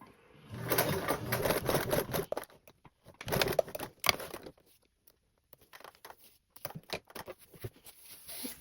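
A domestic sewing machine stitches across the top of a backpack strap on a cozy blanket backpack, running in several short bursts with pauses between them, close and moderately loud.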